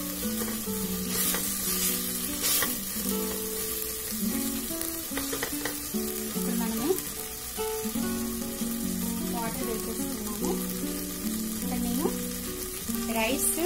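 Tomatoes sizzle in a hot pan for tomato bagara rice. The frying hiss is continuous and close, broken by repeated scraping stir strokes, with no talking.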